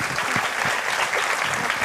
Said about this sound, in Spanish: te vamos a dar este aplauso